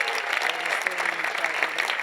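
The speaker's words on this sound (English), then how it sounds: "Keep that applause going." A crowd at an awards auction applauds warmly, dense clapping holding steady at moderate volume throughout.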